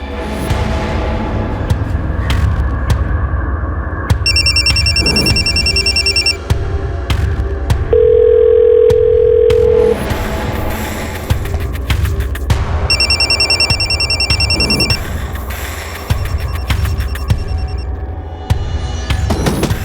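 An unanswered telephone keeps ringing in two separate trilling bursts over a dense, rumbling background, with a short steady tone sounding between them.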